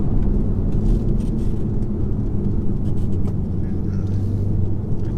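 A 2020 BMW X2 M35i engine drones steadily with a deep low rumble heard from inside the cabin while accelerating, loud and continuous with faint higher noise over it.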